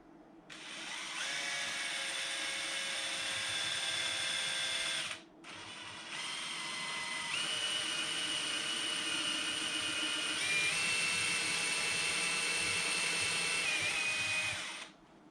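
Power drill boring a pilot hole into wood for a gaming table frame, a steady high-pitched whine running for about fifteen seconds, with one brief pause and slight pitch shifts as the bit cuts, close and alone.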